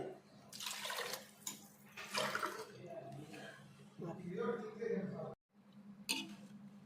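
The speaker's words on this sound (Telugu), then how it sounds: "4 గ్లాసులు వాటర్ వేసుకుంటానండి" Water poured from a glass onto rice in a cooking pot for mushroom biryani, several close splashing pours in bursts with brief pauses, under a faint background hum.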